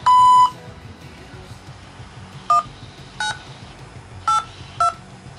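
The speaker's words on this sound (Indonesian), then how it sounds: "say it after the beep" A long steady beep, then several short electronic tones spaced a moment apart, like keypad tones on a Hong Kong COVID test booking phone line, with faint background noise.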